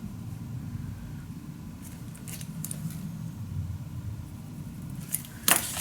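Scissors snip through paper several times in short bursts over a low steady hum, ending with a few sharper, closer cuts.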